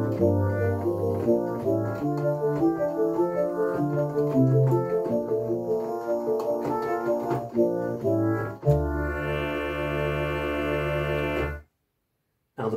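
A homemade ATmega328 microcontroller synthesiser with two-operator FM plays bright polyphonic notes in a quick, steady melodic run, ending on a held chord that cuts off abruptly into silence.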